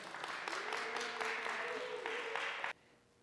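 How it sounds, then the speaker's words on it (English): Brief, faint congregational clapping in a church after a baptism, a soft continuous patter lasting under three seconds before stopping abruptly into near silence. "Please uh, give him a, a big applause"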